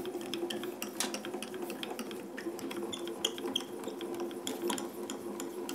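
A die-cutting machine cranked by hand as an A4 embossing folder rolls through on an adapter sheet with a shim, giving a steady ratcheting, clicking mechanical grind with repeated sharp ticks, close and continuous, with no talk.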